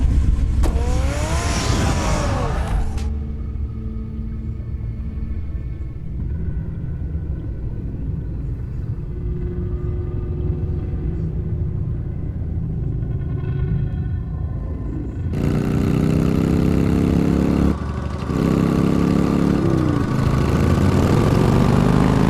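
A car engine in the video game Batman: The Telltale Series rumbles steadily as the car drives, with a low continuous drone that swells louder partway through, alongside game sound effects and no speech.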